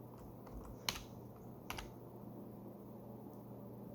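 A few keystrokes on a computer keyboard, entering a Java run command, with two sharper clicks standing out against a low steady hum of room or machine noise.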